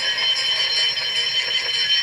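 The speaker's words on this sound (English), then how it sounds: "The alarm went down the line." A railway alarm sound effect ringing continuously, a bright, loud, rapid electric bell-like clatter sustained without pause for about two seconds.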